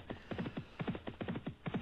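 Horses gallop in a Grade 2 mares hurdle race, with a fast, rhythmic drumming of hooves that rises and falls in clustered beats across the turf at moderate volume.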